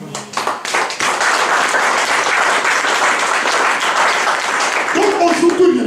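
A church congregation breaks into sustained, loud applause and clapping for the Lord, a dense wash of hands that fills the hall for several seconds, with voices cheering underneath.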